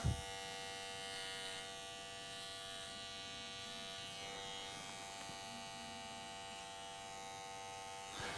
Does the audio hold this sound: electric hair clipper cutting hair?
yes